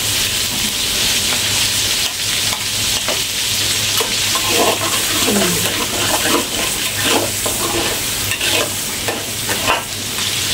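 Garlic frying and being stirred in a wok for a prawn noodle stir-fry, with a steady sizzle and a continuous oil hiss throughout, and a low hum running underneath.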